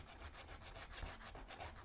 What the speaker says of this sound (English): Okay, see, I'm sanding that edge this way to make it pointed like this.